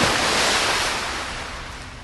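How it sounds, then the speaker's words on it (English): Ocean waves wash against harbor stones in a broad, continuous rush of surf, loud at first and slowly easing, with some wind noise mixed in. "Take me to the end of the ocean, where waves come to rest and hug the harbor stones."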